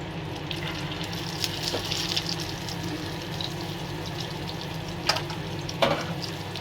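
An egg sizzles in a hot frying pan, a steady crackling hiss with a couple of sharp scraping clicks near the end as it is turned over with a spatula.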